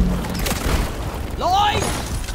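A cryo grenade bursts in the video game Deep Rock Galactic with a loud, close boom followed by rumbling and a sharp chirping effect, under game noise and a voice talking.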